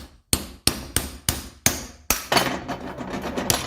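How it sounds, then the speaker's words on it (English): Metal strikes ring out while prying the brake back plate off a 1984 Mercedes 300SD, five loud, evenly spaced hammer-like blows followed by a quicker clattering series of hits, close and sharp. "and pry this back plate off."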